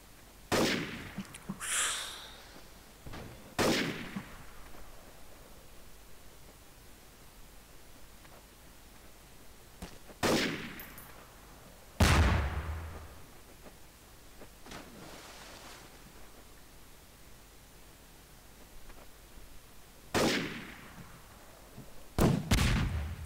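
Video game gunfire in a first-person shooter: sparse, sharp shots spaced several seconds apart over a steady hiss, fairly faint overall with no voices.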